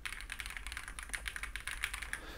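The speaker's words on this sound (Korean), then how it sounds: "그냥 평범한 기계식 키보드의 소리가" Typing on an EPOMAKER TIDE 75 mechanical keyboard fitted with quiet switches: a steady, fairly fast run of soft, muted key clicks at close range, with no talking.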